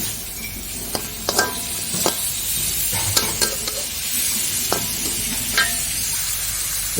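Fettuccine stirred in a sizzling pan for a creamy sambal tempoyak dish, with a steady fry hiss and a string of sharp scrapes and clinks from the utensil at irregular intervals, close up with no voices.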